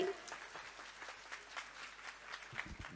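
Faint, scattered clapping from a crowd, soft and distant, continuing steadily for a few seconds.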